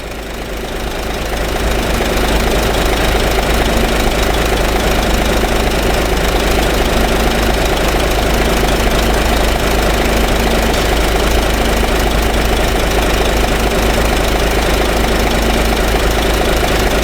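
A Japanese commercial truck engine idles steadily with the ignition on and the transmission in P or N during an actuation test, giving a loud, continuous low rumble with a faint knocking texture and no speech.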